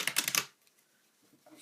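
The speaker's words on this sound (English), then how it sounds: "when you riffle shuffle together the red decks" Red decks of playing cards riffle shuffled together by hand: a rapid, fluttering burst of card clicks lasting under half a second, close and crisp, followed by near silence.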